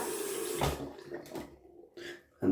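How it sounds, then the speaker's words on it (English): Cold water running from a tap into a sink before lathering shaving soap, a steady splashing stream that stops, followed by brief handling noises. "So I'm gonna just get out some cold water here"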